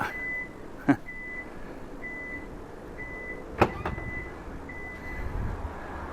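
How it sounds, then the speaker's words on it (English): A car's smart trunk gives several short, evenly spaced electronic beeps, fairly faint, with a couple of sharp clicks and a low outdoor hum as the lights flash. "You can hear the beep, see the lights flashing."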